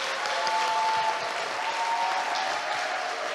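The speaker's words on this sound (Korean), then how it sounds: "우리 박수를 한 번 더" A church congregation claps together in steady, sustained applause during a Sunday service, dense and even throughout with a faint tonal hum underneath.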